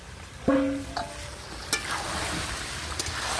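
Duck meat is stirred in an open pot over a wood fire in an earthen stove, with a clanging lid or utensil strike, then scraping stirs over a steady background sizzle.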